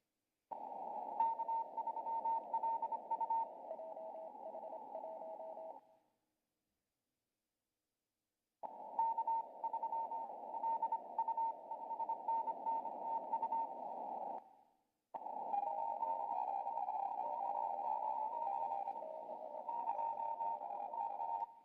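Remote amateur radio transmission relayed over the internet, a band-limited signal with a steady tonal hum and buzzy texture, in three long bursts separated by silent gaps, fairly loud and with no clear speech.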